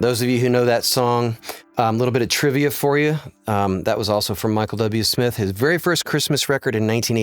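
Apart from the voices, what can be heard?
None of the usual background noises is heard.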